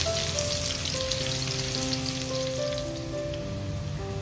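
Mustard seeds and crushed garlic frying in hot coconut oil, a steady close crackling sizzle with scattered pops, under sustained musical tones and with no talking.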